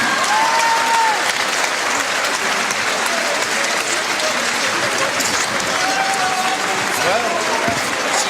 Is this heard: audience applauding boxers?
yes